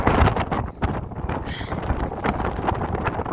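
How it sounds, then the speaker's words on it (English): Strong wind gusts batter the microphone on the exposed summit of Mt. Katahdin, a loud, steady roaring buffet with no break across the clip. "It's so windy that we're just trying to catch our breath and wait out this gust."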